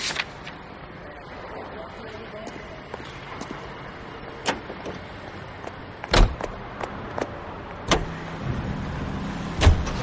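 Car in the L.A. Noire video game being driven, a steady low engine and road rumble with several sharp clicks and door-like thumps, louder bumps near the end.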